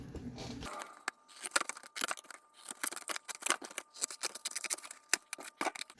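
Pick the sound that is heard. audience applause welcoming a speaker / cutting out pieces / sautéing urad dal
cutting out pieces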